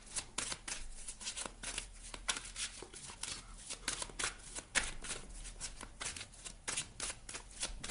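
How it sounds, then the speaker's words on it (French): Mystic Woods oracle cards are shuffled by hand in a soft, steady, crisp riffling of flicks and rustles, close and fairly quiet, with no talk. "Je vais vous prendre une carte ici du Mystic Woods."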